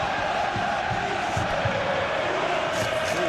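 A steady crowd roar in an eFootball PES 21 simulation of Juventus versus Bologna, a dense, continuous stadium murmur with no break across the whole stretch.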